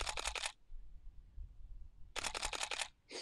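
A camera shutter fires a rapid burst of crisp mechanical clicks, pauses, then fires another burst, close and clear in a quiet room.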